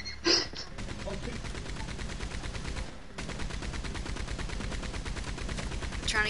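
Gunfire in the Western video game Red Dead Redemption, a rapid string of sharp shots firing in quick succession throughout, with a few louder cracks standing out against the steady volley.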